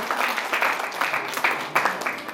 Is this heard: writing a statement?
no